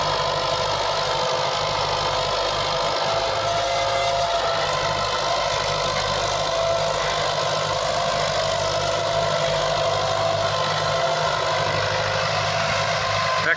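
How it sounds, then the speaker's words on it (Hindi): A Massey Ferguson 165 tractor engine pulling a five-furrow plough, a steady mid-pitched diesel drone with knocking texture, continuous and fairly close, with faint voices at times. "ट्रैक्टर का साउंड चेक करें"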